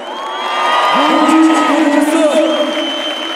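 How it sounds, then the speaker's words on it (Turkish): Rally crowd at a CHP 19 May commemoration in İzmir cheering, whooping and applauding, a dense swell of voices and claps with rising shouts, loud and sustained throughout. "Bir alkış alabilir miyiz?"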